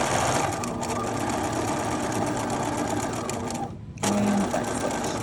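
A sewing machine runs steadily while double stitching the pocket of a button-up shirt, with a brief pause before a short backstitch burst; close and continuous.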